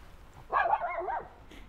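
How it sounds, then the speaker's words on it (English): A massive dog barks once in a drawn-out, throaty bark-howl lasting under a second, loud and close, at a breakfast spot in Skegness. "Massive dog."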